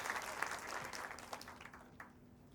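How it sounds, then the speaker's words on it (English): An audience at an alumni summit applauds, a dense patter of clapping that carries on briefly and fades toward the end, fairly faint and heard from within the room. "Can we clap a little louder?"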